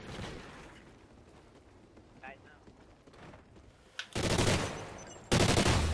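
An IED goes off in Call of Duty: Ghosts as a loud burst of explosive blasts near the end, after a stretch of quieter game sounds with a player talking.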